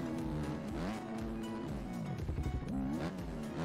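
A dirt bike engine in the MX Bikes racing game screams at high revs, its pitch bouncing up and down in a sustained, buzzing whine with brief stutters as it holds near the limiter.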